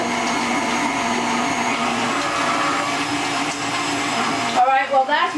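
An electric mixer beats granola chocolate cake batter with a loud, steady whirring hum that stops abruptly near the end, followed by a voice talking.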